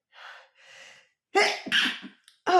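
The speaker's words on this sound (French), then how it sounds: "J'ai envie d'éternuer." A single loud sneeze with two sharp inhaled breaths first, then a short burst of speech right after, close to the microphone.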